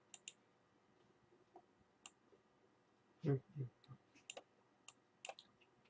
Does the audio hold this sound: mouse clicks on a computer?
yes